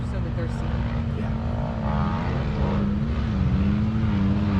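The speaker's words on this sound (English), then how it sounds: "Here comes the motorcycles." Motorcycles approach at an Oregon state park RV campground, giving a steady, loud engine drone with a low hum beneath, while a voice talks over the noise.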